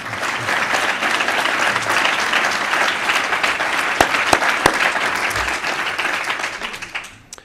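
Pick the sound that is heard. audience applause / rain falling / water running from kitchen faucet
audience applause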